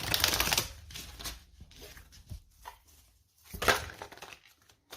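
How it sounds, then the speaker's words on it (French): Nine tarot cards are laid out on a table for a reading, with crisp slaps, shuffles and brushing sounds of the cards coming in uneven bursts, close and fairly quiet. "On va poser les 9 cartes, Balance."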